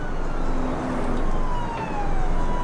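A police car siren wails from a TV show, its pitch sliding in long steady sweeps over a constant rumble of engine and road noise, fairly loud and without any speech.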